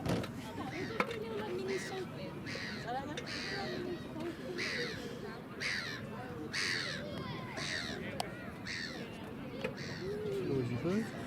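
A crow caws repeatedly, roughly eight harsh calls in an irregular series, fairly loud against the low chatter of people talking outdoors.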